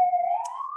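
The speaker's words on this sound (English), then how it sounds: "there's a police car going by over here" Police car siren from a vehicle passing outside, a single sustained tone rising slowly in pitch over under a second, clear and fairly loud with no talk over it.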